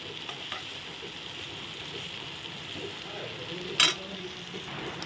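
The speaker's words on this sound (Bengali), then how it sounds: "দেখো এখানে আলুগুলো ভাজা হচ্ছে" Potatoes frying in a pan at home, a steady soft sizzle running throughout with a brief louder crackle near the end, while heavy rain falls outside.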